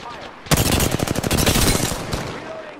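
Rapid automatic gunfire in Apex Legends on the World's Edge map, a loud dense burst of repeated shots lasting about two seconds after a brief quiet start, with faint voice chatter around it.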